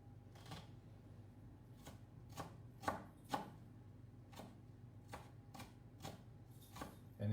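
A knife chops through an onion on a cutting board with a string of crisp, irregular taps, close and fairly quiet, with a couple of sharper knocks among them.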